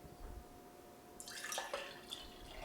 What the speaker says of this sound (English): Then I'm going to add in a 1/2 cup of cold brew concentrate